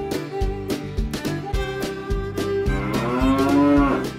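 Cattle on a factory farm mooing repeatedly, several loud, drawn-out calls overlapping in an uneven rhythm, close and clear with no talking.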